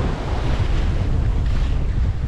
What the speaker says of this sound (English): now we got some wind. We have about 11 knots of wind